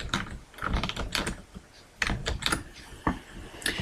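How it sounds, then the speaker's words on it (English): Several sharp keyboard key presses on a computer keyboard, including the enter key tapped a couple of times, clicking in quick irregular bursts close to the microphone. "so I'll just press enter a couple of times."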